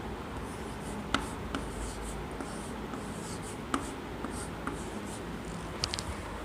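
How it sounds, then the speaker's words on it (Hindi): Faint scratchy strokes of writing on a board during a Hindi lesson on the days of the week, short marks coming in an irregular rhythm with occasional sharper taps, and nobody talking. "चलो इसको भी लिखते हैं"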